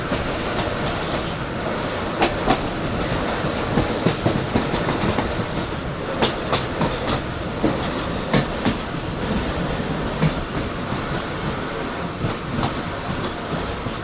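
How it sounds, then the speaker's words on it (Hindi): Passenger train running on the Mirpurkhas–Karachi main line as it approaches a railway station, with a steady loud rumble and repeated clickety-clack of wheels over rail joints throughout. "तो मीटिंग रेलवे स्टेशन पर हमारी ट्रेन अप्रोच बना रही है"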